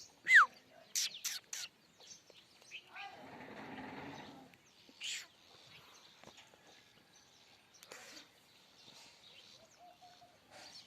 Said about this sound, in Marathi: हे सकाळचा असं असतं चिवचिव